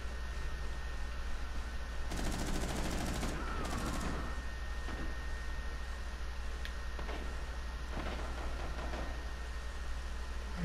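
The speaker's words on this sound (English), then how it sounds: "Hearing all kinds of gunshots" Bursts of rapid gunfire crackle out in Rainbow Six Siege, with a long volley and a shorter one, then scattered single shots over a steady low hum.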